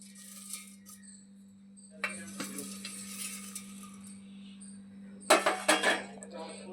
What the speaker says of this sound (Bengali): এবারে আমরা একটা মিক্সিং জার নিয়ে নিচ্ছি।